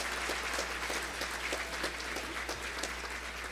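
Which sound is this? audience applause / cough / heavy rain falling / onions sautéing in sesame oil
audience applause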